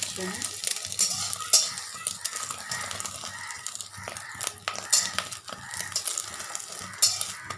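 An egg omelette fries in a pan at home, a steady crackling sizzle with frequent clinks and scrapes of a utensil against the pan, close and continuous throughout.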